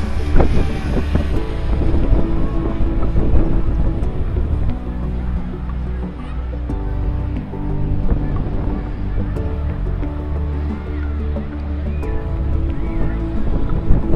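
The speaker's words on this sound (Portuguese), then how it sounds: "Começou o vento" Strong wind buffets a drone's microphone over the beach at Praia da Vila in Saquarema, a steady loud roar and rumble with surf noise beneath, continuous throughout.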